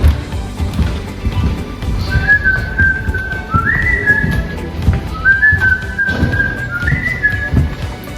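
A person whistles a bright melodic tune in short rising and falling phrases, loud and close over steady background noise.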